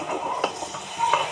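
Vegetables being stirred and sautéed in a pan: a continuous sizzle with a few scraping, clinking strokes of a spatula against the metal, close and fairly loud, lasting only a moment.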